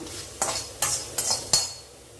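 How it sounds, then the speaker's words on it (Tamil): Bay leaf, cinnamon, cloves and cardamom dry roasting in a pan with no oil, four distinct scraping strokes of a spoon spaced evenly over a faint background hiss, close, then quiet. "இலை பட்டை லவங்கம் ஏலக்காய் எல்லாத்தையும் சேர்த்து மொத்தமாக வறுத்துடலாம்"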